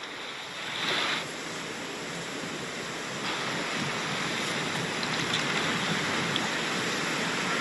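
Ocean waves roll and wash onto the shore beside a seaside villa in Haiti, a loud, continuous broadband roar with a slight surge partway through and no voices.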